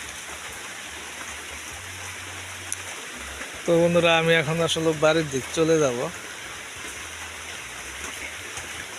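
Heavy rain pours steadily outdoors beside a village road and cowshed, a constant close hiss that runs through the whole stretch while someone talks for a couple of seconds in the middle.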